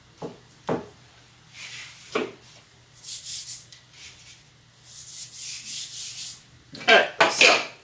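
Chickpea cracker dough is pressed and rolled flat into a rectangle, giving scattered close scraping and rubbing strokes, several short swipes, then a burst of firmer rubs at the end.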